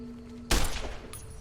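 A single loud gunshot fired by the player in Fallout: New Vegas, a sharp sudden blast with a short decaying tail, close and alone.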